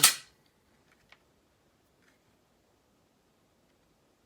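A Glock trigger is dry-fired with one sharp, close click, then quieter small clicks of the reset follow at about one and two seconds, with long near-silent gaps between.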